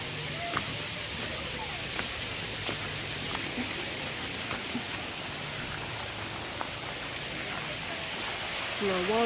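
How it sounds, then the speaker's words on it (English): Small waterfall beside a river at Mahogany Bay, a steady broadband rush of falling water with faint voices and birdsong in the background. "Little waterfall."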